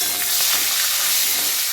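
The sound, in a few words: whole spices, bay leaf and chillies frying in oil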